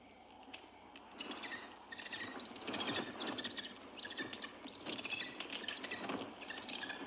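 A bird calls repeatedly in a forest, sending out bursts of chirps and rustling, patter-like sounds at close range in a quiet, gothic-horror setting, with no speech.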